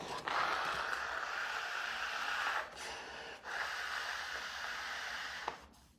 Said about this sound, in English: I'm going to blow my nose real quick